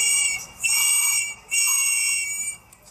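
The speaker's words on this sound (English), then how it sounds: "you would do 3 long bursts with your whistle" Three long, loud whistle blasts, each held for about a second with short gaps between, sounded as a warning signal for immigration enforcement activity.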